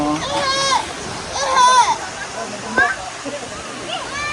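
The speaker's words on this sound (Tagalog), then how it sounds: "Here's the Japanese Sagpulon Falls." The Sagpulon Falls waterfall gives a steady wash of rushing water in the background, while children and adults talk and call out loudly over it.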